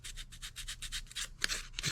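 Sandpaper rubs a model airplane fuselage in quick, even back-and-forth strokes, about a dozen soft rasping passes close up and alone.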